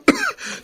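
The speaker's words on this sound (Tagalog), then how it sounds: "Wala akong tigil sa pag-ubo." An older man who has been coughing all night gives one sharp, close cough, a short harsh burst that trails off, followed by a brief second catch of breath.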